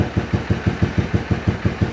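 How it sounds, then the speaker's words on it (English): Custom Suzuki Intruder bobber motorcycle engine idling roughly while smoking a little, a steady close thumping pulse at about five beats per second with no voices. "Well, it's idling, kinda."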